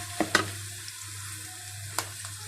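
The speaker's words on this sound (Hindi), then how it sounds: "इसको भी धीमे अच्छे तरीके से फ्राई कर लें।" Garlic-ginger paste fries with browned onions in hot oil, a steady close sizzle under a low hum, punctuated by a few sharp clatters from stirring; no talking.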